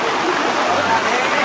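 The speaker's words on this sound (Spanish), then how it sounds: "Le cayó toda el agua de que se había acumulado en la lona, le cayó mero encima y después a mí." Accumulated rainwater pours off a canvas tarp on a building site in one steady, loud splashing gush, a dense continuous rush of water that fills the whole moment without a break.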